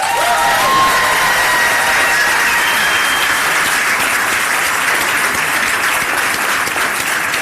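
A conference audience applauding military spouses at a main-stage event, a dense, sustained wash of clapping with a few faint cheers, loud and continuous throughout.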